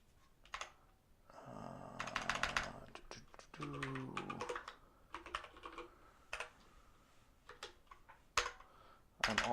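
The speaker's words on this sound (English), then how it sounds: "I'm also learning a new keyboard." A newly acquired computer keyboard is typed on in uneven bursts of quick key clicks with short pauses between them, close to the microphone but quiet, with no talking.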